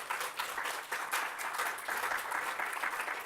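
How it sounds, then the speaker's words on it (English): An audience at a regional stakeholder forum applauds, a dense, even patter of many hands clapping at moderate distance, sustained for a few seconds without speech. "So please give them a big round of applause."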